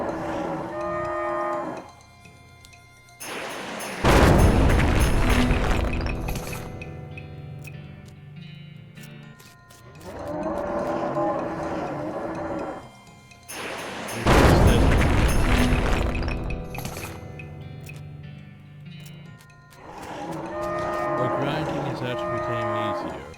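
Cows mooing in the West of Loathing video game, long loud bellowing moos in a repeating pattern, each paired with a heavy booming combat impact.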